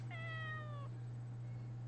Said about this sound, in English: an adorable meow.